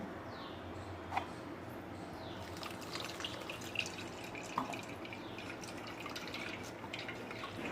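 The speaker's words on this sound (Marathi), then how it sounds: "ते चाळणीच्या सहाय्याने गाळून घेऊ" Coconut milk for sol kadhi strains through a kitchen sieve, giving a faint, quiet trickle with a few soft drips scattered over several seconds.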